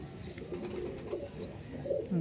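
Male and female Madras pigeons cooing at close range, soft low murmuring coos repeated over a quiet background.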